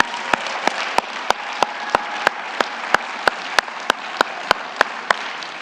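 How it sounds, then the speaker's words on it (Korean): A church congregation at a Thanksgiving Sunday service claps in unison, a loud, steady rhythmic beat of roughly three claps per second over a bed of general applause, continuing throughout. "하나님께 영광의 박수 올려드리겠습니다"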